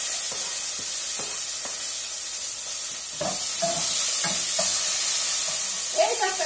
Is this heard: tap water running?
no